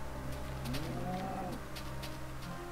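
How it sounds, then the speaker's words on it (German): A single faint, drawn-out moo from a cow in the Minecraft video game, rising and falling once over a quiet, steady background hum. "Hallo Kuh."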